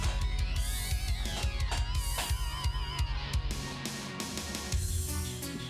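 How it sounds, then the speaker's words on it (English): Electric-guitar-driven chiptune-style music from the Castlevania Rondo of Blood video game, loud and continuous with a steady driving beat and melodic lead lines, no talking over it. "Imagine hearing that electric guitar when this game came out."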